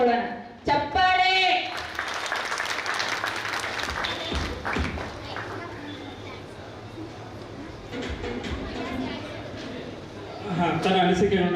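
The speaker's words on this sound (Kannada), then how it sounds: "ಚಪ್ಪಾಳೆ." Audience at a high school alumni reunion and teachers' felicitation event in Mudalagi claps in sustained applause, with a dense patter of many hands and voices over it.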